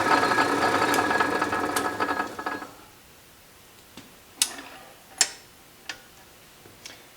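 An Atlas Craftsman metal lathe running in back gear hums and whirs steadily for a few seconds, then stops, leaving a series of sharp mechanical clicks and taps spaced about a second apart.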